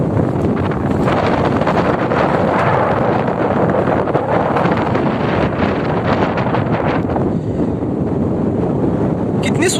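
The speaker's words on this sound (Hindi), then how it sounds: "वहाँ बहुत तेज़ हवा चल रही है" Strong wind roars and buffets the microphone continuously in a Uttarakhand mountain village, a loud, steady rush with gusty rumbling throughout.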